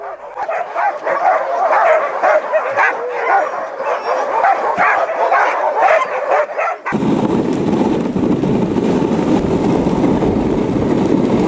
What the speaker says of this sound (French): Les aboiements que nous entendons à notre arrivée proviennent du fait que les chiens ont deviné qu'une sortie va avoir lieu